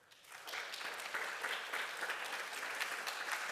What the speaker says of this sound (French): que nous pouvons applaudir.